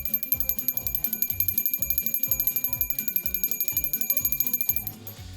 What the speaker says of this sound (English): I'm gonna ring the bell for G-Dog Shingmaster now.